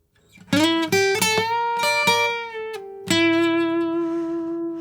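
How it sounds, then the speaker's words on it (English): An acoustic guitar plucks several notes, then a double half-step bend is pushed upward and held, ringing out clearly with a slight vibrato waver at the end. "And then finally, the double half note bend."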